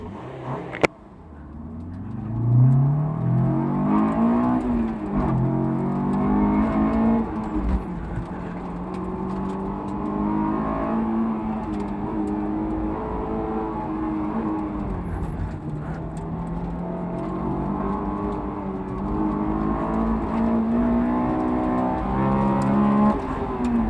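Tuned Honda S2000 AP1 on an autocross course, its engine revving and shifting steadily throughout, pitch rising and falling with acceleration, close and continuous.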